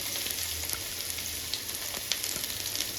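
A small, finely chopped onion fries in oil, a continuous close sizzle and crackle with scattered light pops and a few soft stirring taps, steady throughout with no voices.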